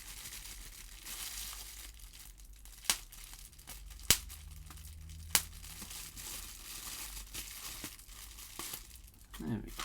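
Pimoroni Picade X arcade kit packaging crinkled and rustled close by during unboxing, a steady soft crackle broken by a few sharp louder crunches.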